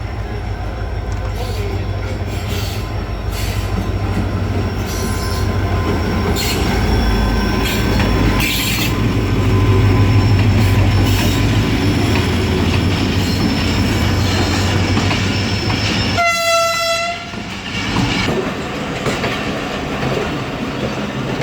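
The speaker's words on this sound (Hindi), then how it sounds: "उसी वक्त मेरे सामने से आने लगी 11 हज़ार एक्सप्रेस, जो कि कराची और हवेलियाँ के दरमियान चलती है" A Pakistani express train running between Karachi and Havelian, led by an HGMU-30 locomotive, roars past Nawabshah station, loud and close, with steady wheel rumble, clattering carriages and squealing wheels, broken near the end by a long loud horn blast.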